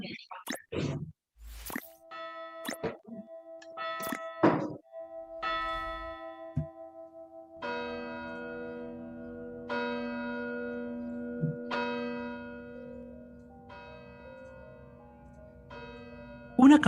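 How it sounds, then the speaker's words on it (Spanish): A church bell rings repeatedly at night in November, its resonant strikes sustaining and overlapping in a steady series, moderately loud and carrying through the air with a few other brief sounds early on. "Una campana repica de fondo."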